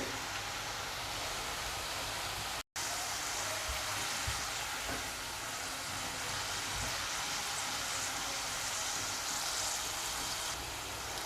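Okra (bhindi) roasts and fries in a pan over a low gas flame, giving a steady, faint hiss and sizzle with occasional soft pops; a brief dropout interrupts it near the start, and no one talks.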